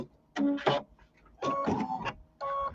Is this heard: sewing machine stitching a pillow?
yes